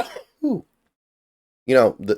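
Two short, harsh coughs spaced apart, close and loud, with silence between them.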